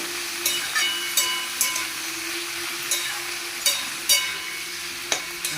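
Cabbage frying with panch phoron spices in a pan on a gas stove, a steady close sizzle broken by several sharp scraping and stirring knocks at irregular intervals.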